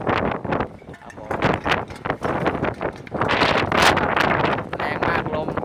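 Strong storm wind buffets a fourth-floor rooftop, roaring in loud irregular gusts and rumbling microphone blasts, with someone talking over it.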